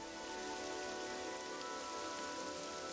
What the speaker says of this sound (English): honestly, I just want to stay here until it stops raining